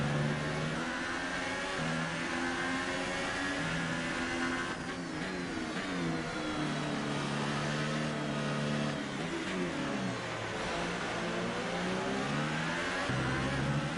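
Race car engines in a video game, a continuous loud buzzing whine with repeated gear shifts and revs rising and falling, several cars close together, with no voices.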